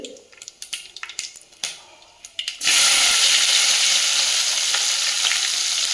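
Onion and garlic dropped into hot oil after mustard seeds have popped, irregular crackles and spattering pops giving way to a sudden loud, steady sizzle that holds to the end.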